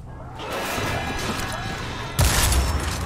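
A shotgun blast fires in the video game Destiny 2, a sudden loud, heavy boom that hits near the end over a steady background of game ambience and music.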